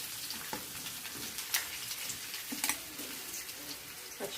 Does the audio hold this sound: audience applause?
no